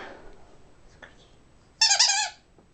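A squeaky dog toy gives one loud, sustained squeak lasting about half a second, near and clear over quiet room tone, offered to a redbone coonhound indoors.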